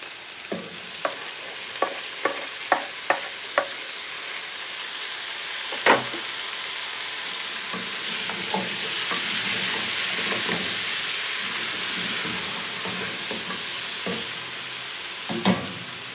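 Onions and tomatoes frying in a pan for kienyeji chicken give a steady close sizzle, broken by a run of sharp spoon knocks and scrapes early on and a few more later.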